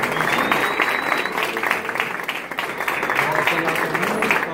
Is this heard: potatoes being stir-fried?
no